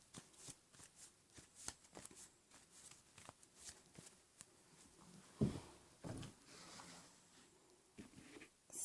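Oracle cards from the Wisdom of the Hidden Realms deck are shuffled by hand in quiet, rapid papery riffles and taps with a few louder slaps, close and faint, no talking.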